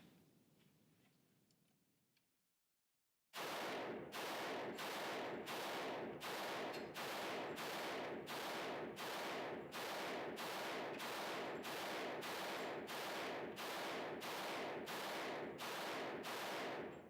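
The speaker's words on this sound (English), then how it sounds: "Well, okay, that was 20 rounds, no failures to feed, fire, or eject." An Omega Gideon Shadow firearm fires about twenty loud, evenly spaced rounds at 5280 Armory in a steady, unbroken string. A brief quiet stretch comes before the first shot.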